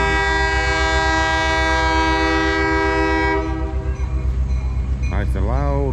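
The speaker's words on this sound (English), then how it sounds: "And here comes the train." A Cuyahoga Valley Scenic Railroad train sounds its loud horn in a long sustained blast beside a river, then rumbles past nearby with heavy mechanical noise and a brief voice near the end.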